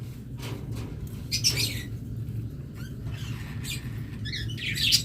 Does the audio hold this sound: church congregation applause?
no